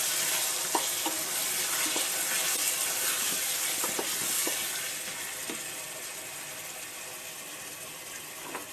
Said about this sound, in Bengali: ম্যারিনেট করা মাংসগুলো এতে দিয়ে ভালো করে কষতে হবে।